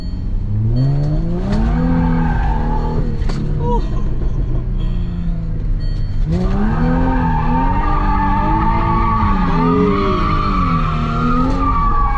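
A Jaguar F-Type slides around a parking lot, its tires squealing in long wavering howls while the engine revs underneath, loud and close, with a brief pause midway before the screeching resumes.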